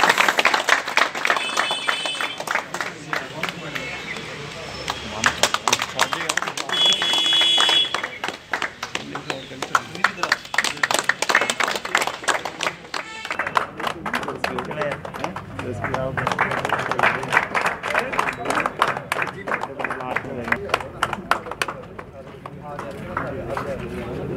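A crowd claps to welcome people at a party joining programme at the JKNPP office in Gandhi Nagar, Jammu. The applause comes in uneven waves with a voice talking over it.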